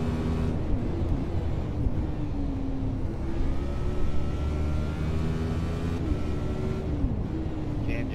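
Racing car engine droning steadily ahead in a sim racing game, a continuous low tone that shifts pitch as the car ahead changes gears, heard from close behind in the draft over a constant rumble.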